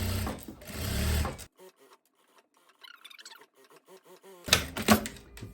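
A sewing machine stitches the facing of a long kaftan in two bursts of steady mechanical whirring, near and fairly loud, with a quiet stretch of soft handling noises in between.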